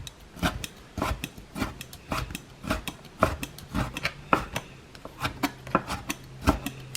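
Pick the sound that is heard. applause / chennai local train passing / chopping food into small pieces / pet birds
chopping food into small pieces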